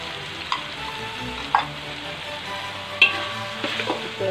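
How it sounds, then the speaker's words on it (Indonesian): Flat kuey teow noodles with boiled beef and shrimp are stir-fried in a hot pan. An even oily sizzle is broken by sharp spatula scrapes and knocks at irregular intervals, close and fairly loud. "Kita gaul rata."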